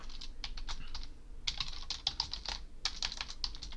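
Someone types a student email address on a computer keyboard to log into a school system: a quiet, close run of rapid, uneven key clicks, with short pauses, and no talking.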